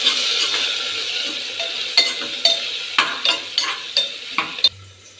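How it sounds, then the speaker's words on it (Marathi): A spoon stirs dal with turmeric and coriander in a pot, each stroke scraping and clinking against the metal in a steady rhythm over a soft sizzle, close and fairly loud, ending abruptly. "त्यानंतर आपण ह्याला हलवून घेऊ."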